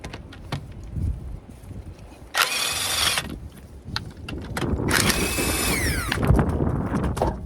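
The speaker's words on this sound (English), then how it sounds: "I'm going to be using my impact gun." An impact gun with a 22mm socket removes a wheel from a 2014 Dodge Durango, firing two loud, close rattling bursts separated by a short pause.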